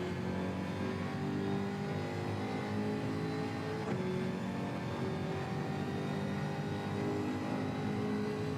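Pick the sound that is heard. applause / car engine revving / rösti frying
car engine revving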